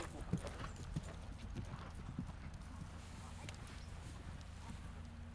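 A horse cantering in a riding arena, its hooves clip-clopping in a steady, rhythmic beat, moderately close and fairly soft, with a voice speaking over it at times.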